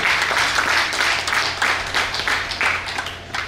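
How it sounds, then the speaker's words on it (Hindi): An audience claps at a farewell event, a dense burst of applause with uneven rhythmic swells that tapers off near the end. "एक बार सुधीर जी ने ताली बजानी बनती है।"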